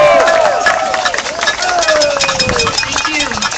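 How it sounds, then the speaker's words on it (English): Rally audience in San Diego clapping and cheering loudly for speakers from an international people's struggle league, with dense sustained applause and raised voices mixed in throughout. "So please welcome them up and give a round of applause."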